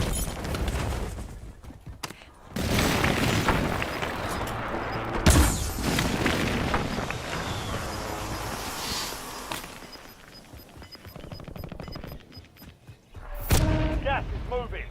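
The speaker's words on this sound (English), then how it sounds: "Enemy airstrike in the area." Deep booms of an enemy airstrike roll through a Call of Duty Warzone match, with several heavy blasts spaced across the span, layered over gunfire, footsteps and someone talking throughout.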